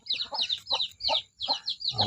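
Chickens at a nipa hut farmyard cluck in short repeated bursts, close and distinct, in a steady rhythm.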